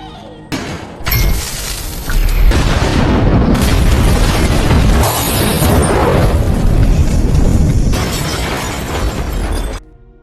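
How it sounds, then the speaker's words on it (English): A booby trap detonates inside a factory and sets it ablaze: a sudden loud blast with shattering, crashing debris, then a sustained roaring, crackling fire and rumble that holds steady for several seconds before cutting off. "when she turns on the lights, Broker's trap explodes, setting the factory on fire"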